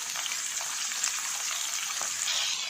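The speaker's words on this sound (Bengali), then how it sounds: "আলু দিয়ে একটু ভাজবো।" Potato pieces fry with onion in hot mustard oil, a steady, fairly close sizzle and hiss that runs evenly throughout with no talking.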